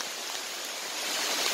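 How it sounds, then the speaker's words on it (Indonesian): Heavy rain falls in a forest as a steady, dense hiss of broadband noise with no breaks, close and fairly quiet, with no voices. "Hujan semakin lebat."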